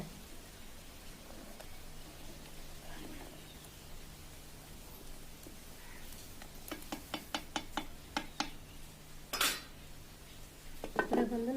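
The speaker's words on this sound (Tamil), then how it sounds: "எல்லாம் ஒன்றா குழம்போடு சேர்ந்து வர வரைக்கும் நல்லா கிளறி விட்டால்" Metal utensil clinks and scrapes against a clay pot of dried fish and eggplant curry, a quick series of taps building to a sharper clatter, over a steady low hum.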